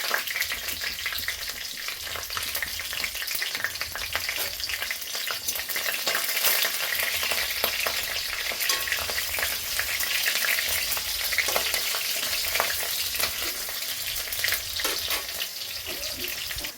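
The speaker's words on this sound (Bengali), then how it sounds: "জিরা তেজপাতা দিয়ে লঙ্কাটা ছেড়ে দিয়েছিলাম, হালকা করে ভেজে নিয়েছি।" Green chillies, cumin and bay leaf fry in hot oil, giving a steady, close, dense sizzle that runs without a break, with occasional scrapes and stirring clatter and no voices.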